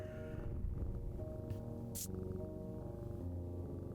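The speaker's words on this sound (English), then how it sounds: "Pet the cat." A video-game cat purrs after being petted, a steady low rumbling purr, close and alone, with a couple of brief soft clicks partway through.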